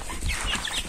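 A rooster on a farm calls over steady outdoor background noise, a single short, fairly close cluck or crow with no talking.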